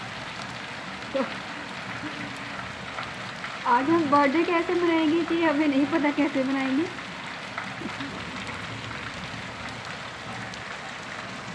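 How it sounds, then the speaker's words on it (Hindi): Heavy rain pours down outside a home, a steady broadband hiss that runs from start to finish while a voice talks briefly over it midway. "बड़ी ही ज़्यादा बारिश हो रही है"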